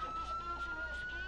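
A video game Chevrolet Caprice police car's siren wails, cycling up and down, faint and slightly distant, over a low steady hum.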